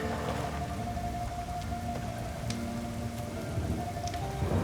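Steady rain pours down continuously throughout, a dense even hiss with occasional louder drop spatters, and no voices.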